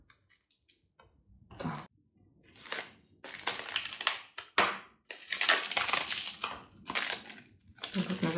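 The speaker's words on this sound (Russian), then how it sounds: "Колоду буду открывать новую." Crinkly plastic and cardboard rustling in bursts, close by, as a new deck of cards is unwrapped from its box and inner wrapper, with pauses between.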